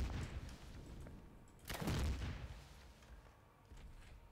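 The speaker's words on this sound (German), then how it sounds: "Da sind wir aber gerade noch so aus mit der Explosion rausgesprungen" In the Resident Evil game, a single heavy explosion booms out abruptly midway, bursting over continuous rumbling game noise before settling back down.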